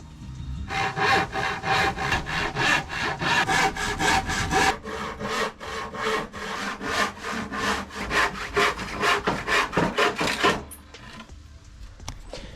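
Saw cutting through 18mm plywood for van bench tops, a loud, steady run of rapid rasping strokes for about ten seconds before the blade stops and the sound drops away.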